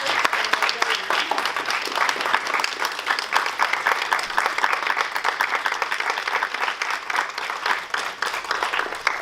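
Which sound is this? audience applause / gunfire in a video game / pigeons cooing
audience applause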